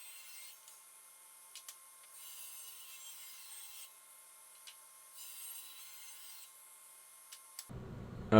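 A saw cuts through white oak boards in a workshop, a steady sustained rasping cut with faint ticks, ending in a sudden loud burst.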